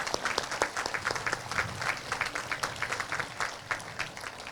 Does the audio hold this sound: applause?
yes